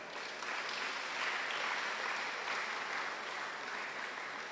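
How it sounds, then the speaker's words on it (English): Steady, dense applause from a seated audience at a university parents and family orientation at UWI Mona, holding at an even, full level for about four and a half seconds with no voices over it. "So give yourselves an applause."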